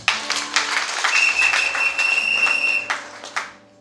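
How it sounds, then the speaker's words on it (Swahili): A church congregation breaks into loud, sustained applause and clapping in praise of Jesus, dense and close, tapering off toward the end. "Pigia Yesu makofi."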